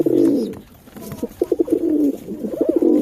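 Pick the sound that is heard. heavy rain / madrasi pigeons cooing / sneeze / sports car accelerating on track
madrasi pigeons cooing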